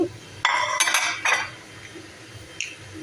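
Chopped onion, capsicum and carrot are tossed together in a bowl, with a few clinks and scrapes of a utensil against the dish in short bursts, close by.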